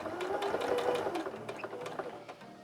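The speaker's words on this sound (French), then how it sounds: "Et je couds à 1 cm du bord jusqu'en bas." A sewing machine stitches a trouser zipper seam with a steady, fast mechanical whir and needle patter, close and moderately quiet, running continuously without talk.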